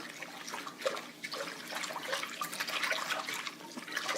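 Yellow cornmeal and water are blended in a bowl, giving a faint, wet sloshing and swishing that continues steadily in small irregular pulses.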